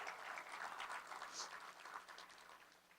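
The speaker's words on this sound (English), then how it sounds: "So give her a round of applause" An audience at a Blue Springs State of the City event applauds Teresa Garza, a Raytown alderman, with soft, steady clapping from a crowd at some distance that tapers gently.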